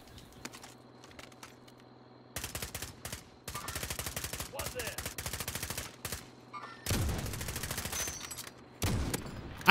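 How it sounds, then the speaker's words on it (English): Rapid gunfire crackles in Call of Duty Modern Warfare, including AX50 sniper rifle shots, arriving in loud bursts separated by quieter stretches with faint game sounds underneath. "I hit him in the air with the sniper!"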